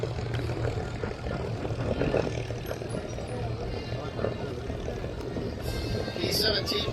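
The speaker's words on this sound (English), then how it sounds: "P-51 Mustang, one of the greatest success stories of military aviation." A P-51 Mustang propeller aircraft flies at an airshow in London, a steady droning engine roar heard at a distance throughout, with a commentator talking over it.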